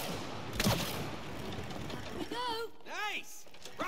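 Gunfire bursts from the co-op video game It Takes Two, a rapid crackling fusillade mixed with mechanical whirring and bright chirping game effects, moderately loud and steady throughout.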